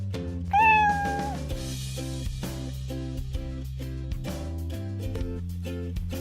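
A single loud, clear cat meow near the start, then rhythmic music continues alone.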